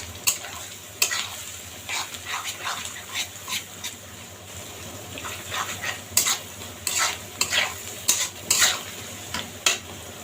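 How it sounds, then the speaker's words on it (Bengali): Chopped onions fry in a pan and are stirred steadily until brown for a chicken roast, with repeated sharp scrapes and clinks of the spoon over a continuous sizzle, close and fairly loud. "তার জন্য আমি পেঁয়াজটা ব্রাউন কালার করে ভেজে নিব।"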